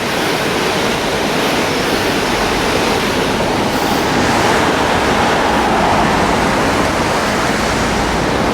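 Floodwater rushes through river locks on a flooded walk in Canterbury, a loud, steady, roaring wash that fills the whole stretch with no breaks and no voices.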